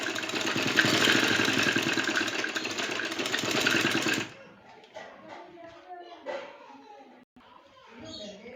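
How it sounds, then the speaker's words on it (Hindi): Electric sewing machine running steadily while double stitching a cutwork trouser, a continuous mechanical whir for about four seconds before stopping, followed by someone talking over light handling noises. "दोनों साइड से मैंने देखिए डबल स्टिचिंग की है।"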